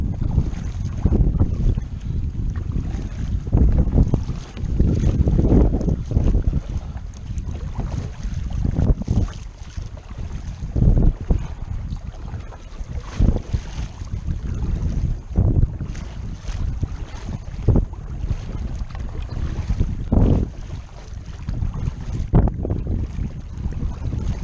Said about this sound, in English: And I swear the breeze is picking up the whole time we're out here.